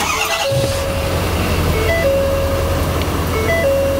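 A Ford 6.7L Power Stroke diesel engine runs loudly right after starting, a steady heavy rumble and clatter with intermittent electronic warning chimes from the truck over the top.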